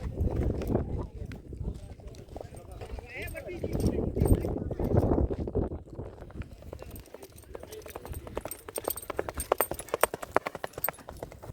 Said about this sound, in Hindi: काफ़ी खूबसूरत चलता है, भोज कच्छ का घोड़ा है।